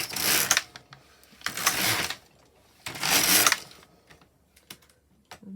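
An LK150 knitting machine carriage is pushed across the needle bed knitting rows, giving three loud sliding bursts of clattering mechanical noise separated by short pauses, followed by softer scattered clicks.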